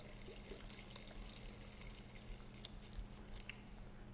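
Chicken broth pours from a container into a soup pot for elk vegetable soup, a faint, steady liquid stream that runs unbroken for about four seconds with no talk.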